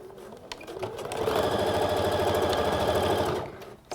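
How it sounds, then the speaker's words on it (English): A sewing machine runs a straight stitch along trousers, starting after a few soft handling noises and humming in a steady close rattle for about two and a half seconds before stopping. "you can do just some lines of straight stitch in there on your machine"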